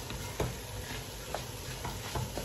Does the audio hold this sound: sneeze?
no